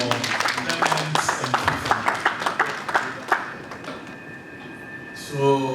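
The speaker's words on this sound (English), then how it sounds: "Big round of applause for Clement" Audience applause for the presenters at a corporate question-and-answer session, a run of sharp, evenly spaced claps of moderate loudness that fades out within a few seconds.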